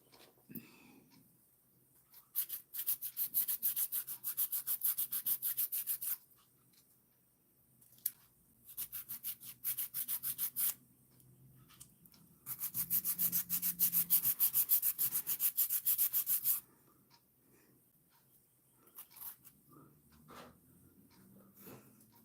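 Rhythmic scratchy rasping of a nail file in several bursts separated by pauses, close and fairly loud, with no talking.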